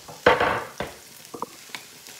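Okra sears in coconut oil in a pan, with a few sharp sizzling bursts and stirring scrapes spaced out over a couple of seconds, fairly quiet and close with no talking.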